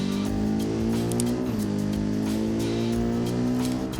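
A Hirochi CCF car in a video game, its engine droning loud and steady at high revs with a brief dip midway as it speeds along.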